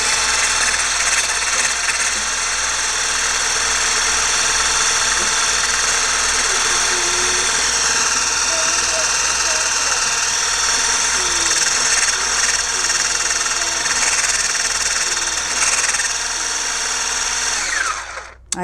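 An electric whisk whips homemade shea body butter with coconut, a loud, steady motor whir with a dense buzz that runs nearly unbroken and cuts off abruptly at the end.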